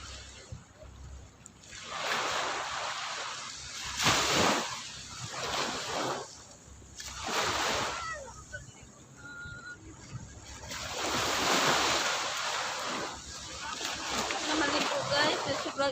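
Waves wash and splash on the white-sand shore of Calaguas beach, swelling and receding in broad surges with a brief quieter lull between them.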